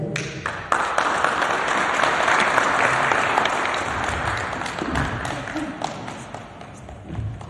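Sustained applause from the audience at a municipal investment summit, a dense wash of clapping across the whole stretch that eases slightly toward the end.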